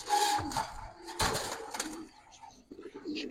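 Giribaz pigeons cooing softly in a loft, low throaty coos with a brief wing flutter, faint and close, no talk.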